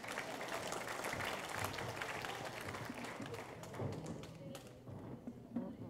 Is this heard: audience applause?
yes